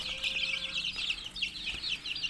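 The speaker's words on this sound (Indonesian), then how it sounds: "Dan ini ayam-ayamnya sudah" Chickens cluck softly and repeatedly while eating a mixed feed of kitchen scraps, close-up and fairly quiet, with irregular bursts of clucking and light pecking.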